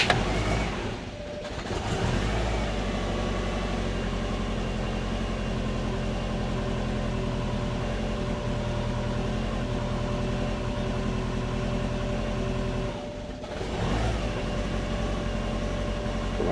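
Engine of a modified Subaru sleeper car running at a steady low drone for a cold start, with a brief dip and recovery near the start and again near the end, loud and continuous with no talk.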